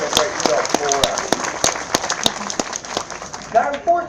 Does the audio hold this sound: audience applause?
yes